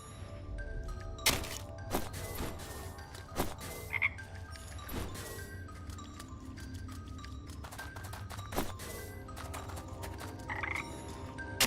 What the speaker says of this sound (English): I can't catch the frogs yet.